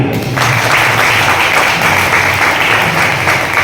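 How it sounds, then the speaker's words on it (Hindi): Loud, sustained applause from a crowd at a school Independence Day flag-hoisting event, honouring an esteemed founder seated among them; dense, steady clapping runs throughout with no talk. "एक बार ऐसे महापुरुष के लिए जो हम लोगों के बीच में ही बैठा है, जोरदार तालियां"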